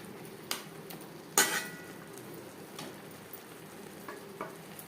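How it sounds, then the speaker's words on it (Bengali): Chicken being stirred with tomato paste in a frying pan for an aloo chicken curry: soft sizzling with a few sharp utensil scrapes and clinks against the pan, quiet and close. "চিকেনের সাথে টমেটোর পেস্ট বেশ ভালো করে মিক্স করে দেব।"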